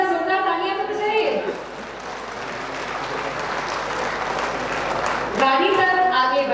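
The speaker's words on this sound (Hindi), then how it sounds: "जरा जोरदार तालियां तो बजाइए" A large crowd at a public ceremony launching a government outreach campaign bursts into loud, sustained applause, framed by a speaker's amplified voice at the start and end.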